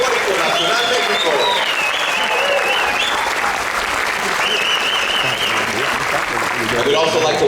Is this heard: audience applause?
yes